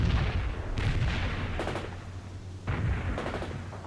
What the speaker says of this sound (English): Mortar strike executed